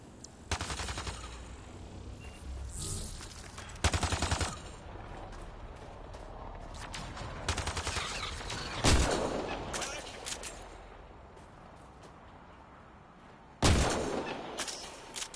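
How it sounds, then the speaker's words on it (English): Heavy weapons fire in Mass Effect Andromeda: bursts of loud gunshots and sharp blasts erupt repeatedly at irregular intervals, with several strong booming impacts standing out over a continuous rumbling battle background. "Pathfinder, I detect heavy weapons fire nearby."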